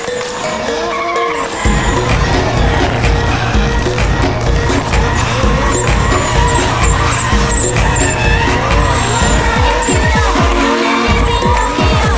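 A Toyota Corolla drifting, with a loud, continuous engine roar and sustained tire squeal that kicks in abruptly after a quieter opening and stays intense to the end.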